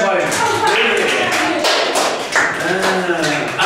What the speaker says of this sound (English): Give clap for him.